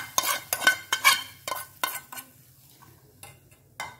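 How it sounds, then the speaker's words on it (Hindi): Roasted peas being stirred and mixed into a potato masala, heard as a run of close, sharp spoon scrapes and clanks against the pan, with a faint sizzle between strokes. "और अच्छे से इनको मिक्स करेंगे।"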